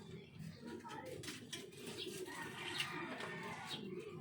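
Pet pigeons or doves cooing softly inside a cage, a low murmuring coo repeating under faint background voices and small clatters of feeding dishes.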